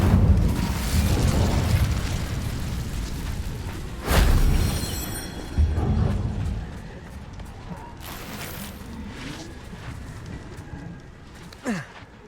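An Incendio fire spell cast in Hogwarts Legacy, a fiery whooshing burst with booming impact layered over a rumbling game soundscape, followed by smaller crackling hits and a fading tail.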